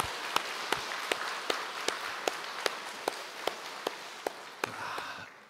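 A church congregation applauds to welcome new members: a steady wash of clapping with sharp, evenly spaced louder claps cutting through in a regular rhythm.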